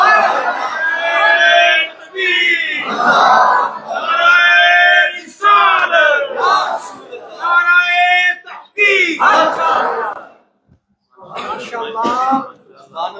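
A crowd at a religious gathering chants slogans in loud bursts of many voices together. Each burst lasts a couple of seconds and is split by short pauses, in a call-and-response rhythm.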